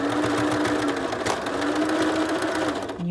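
A sewing machine stitches a fabric face mask, running as a loud, continuous, rapid whirring drone up close without pause or talk.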